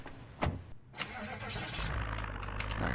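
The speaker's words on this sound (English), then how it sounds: "Just one real bad engine start for some reason." In the Project Zomboid video game, a car engine struggles through a rough start with a few sputtering bursts, then catches and runs at a steady low idle that builds slightly, heard alone and at a modest level.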